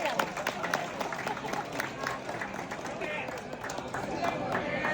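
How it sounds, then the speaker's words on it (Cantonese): Guests at a banquet dinner for a lion dance and firecracker association clap in a loose, uneven patter amid crowd chatter and a voice over the noise. "有請3位為醒獅掛紅，俾掌聲3位。"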